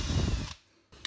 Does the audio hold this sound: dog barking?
no